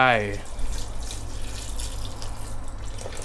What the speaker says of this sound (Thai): แล้วก็หางกะทินะครับใส่ลงไป